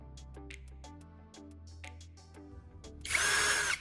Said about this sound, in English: Using my drill, I'll carefully make 2 holes.